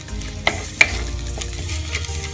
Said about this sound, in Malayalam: നമുക്ക് നന്നായിട്ട് വഴറ്റിയെടുക്കാം